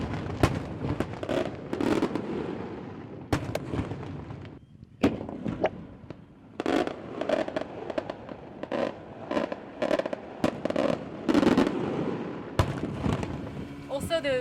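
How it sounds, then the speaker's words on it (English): Festival fireworks in Malta crack and boom repeatedly in irregular bursts, heard from a boat, some sharp and close, with people talking between and over the blasts. "apparently this week there is a big festival involving fireworks"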